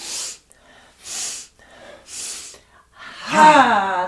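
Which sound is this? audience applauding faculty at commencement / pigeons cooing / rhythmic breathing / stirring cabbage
rhythmic breathing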